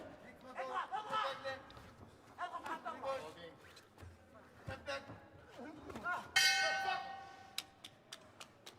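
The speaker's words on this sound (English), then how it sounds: "Well, there goes the bell" A boxing ring bell clangs once, loud and ringing with a long decay, ending a men's 75 kg amateur bout at Kielce 2021, over crowd noise and a commentator talking.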